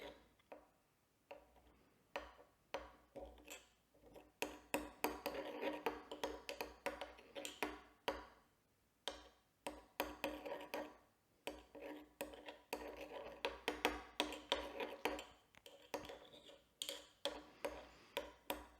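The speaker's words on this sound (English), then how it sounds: "I'm just kind of pressing it with a spoon to break it up. And keep stirring it." A spoon presses and stirs an edible glue mixture in a container, making close, repeated clicking and scraping taps in an uneven rhythm with short pauses between bursts.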